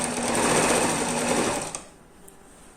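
A sewing machine stitches a double-sided placemat through a thick section, a steady loud mechanical whir running alone for about a second and a half before stopping abruptly.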